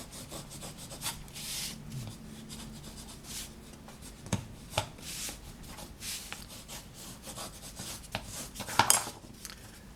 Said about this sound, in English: So I have the bone folder and I just rub those down like this to put it back in place after the cut's been made.